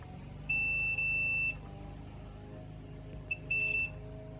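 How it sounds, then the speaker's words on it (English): A multimeter in continuity mode beeps while testing the flaky USB connector of an ADSM302 oscilloscope: two steady electronic tones around one and a half seconds, then a brief blip and a shorter beep, clear over a quiet hum. "here seems like it should be beeping, right?"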